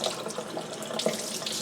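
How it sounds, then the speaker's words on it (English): A whole raw chicken is rinsed under a running kitchen tap, a steady close hiss of flowing water broken by splashy changes as the bird is turned in the stream. "rinsing it under water"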